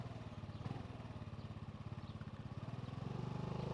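A Honda Navi motorcycle's small engine drones steadily while riding along Southern Indiana roads, a close, even pulse with a slight swell near the end.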